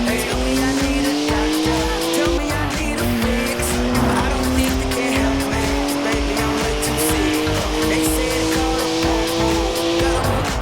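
A BMW 1M with a 3-litre twin-turbo straight-six, 335 horsepower, drifting sideways: a steady loud engine drone with pitch shifts as it slides, tyres squealing continuously throughout, with no speech over it.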